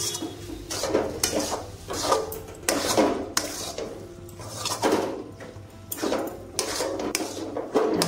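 Banana flower mixture being stirred with oil in a pan, a series of rhythmic scraping strokes of a spoon against the metal, each lasting about a second, close and fairly loud over a low background hum.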